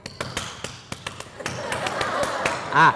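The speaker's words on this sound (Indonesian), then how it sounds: "Itu tepuk pramuka itu bos." Scout clap (tepuk pramuka) hand clapping during a religious talk: a rhythmic series of sharp claps speeding up into a quick patter, followed by a voice near the end.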